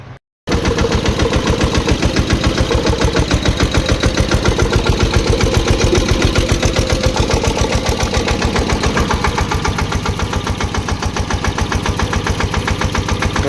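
A diesel tractor engine chugs steadily at idle with a rapid, regular knocking pulse, close and loud throughout.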